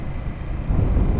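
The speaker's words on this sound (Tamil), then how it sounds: "செம காற்று." Strong wind roars into the microphone during a motorcycle ride on a Himalayan 450 in light monsoon rain near Tenkasi. It is a low, buffeting rumble that swells louder in the second half.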